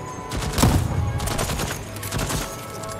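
Rapid turret gunfire in the video game Deathloop, a dense, loud burst of repeated shots with a heavy thump near the start, continuing steadily for a few seconds without talk.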